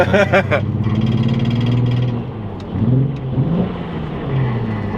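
A BMW E93 engine revs up and drops back several times nearby, its growl rising and falling in pitch, with pops and bangs.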